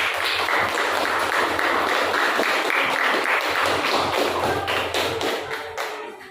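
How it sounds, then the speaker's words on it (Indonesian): Sustained applause from a group after class group presentations, dense clapping throughout that gradually fades toward the end. "Ya, berikan tepuk tangan dalam perjuangan"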